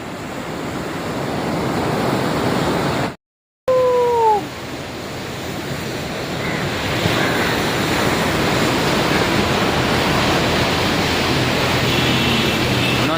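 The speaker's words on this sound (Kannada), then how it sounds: "ಇದೇ ಸಮುದ್ರ" Sea waves at the port in Chennai roar loudly and continuously, a dense, steady surf wash with gusty wind across the microphone and one brief dropout.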